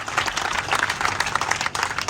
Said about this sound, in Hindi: एक बार डीसी ऑफिस के लिए भी तालियां बजाएं